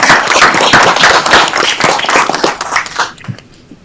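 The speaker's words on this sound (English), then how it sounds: "Let's give them a round of applause." Close, loud clapping at a city council meeting, a small group of individual claps with distinct sharp hits that thin out and fade away in the final second.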